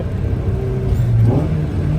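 A car engine with individual throttle bodies, a fully built BP swap, blips and revs while downshifting, a loud close whirring roar with rising pitch sweeps and no talk.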